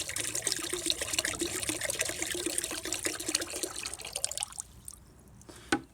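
Metal Rescue rust remover liquid poured into a water-filled container for soaking Civil War cannonball fragments: a close, continuous splashing pour for several seconds, then it stops and a single knock follows.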